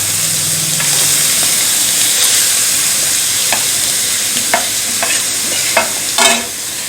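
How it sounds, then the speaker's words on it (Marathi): Grated carrot sautés in hot ghee in a wok over a medium flame, giving a steady close sizzle broken by several sharp scrapes and stirring clatters toward the end, with no talking. "या तुपावरती गाजर थोडा वेळ आपल्याला परतून घ्यायचा आहे"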